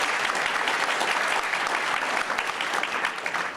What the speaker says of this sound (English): Alfred Martin, clap it up